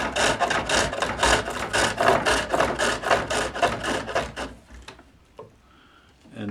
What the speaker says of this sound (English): I'll use a heavier skew to finish it off here.